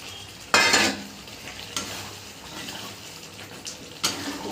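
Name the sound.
frying and stirring spice masala in a pan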